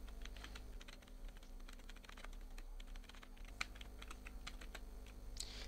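Text is being typed on a computer keyboard while working in Adobe Illustrator, giving a steady run of quiet, close key clicks over a low background hum.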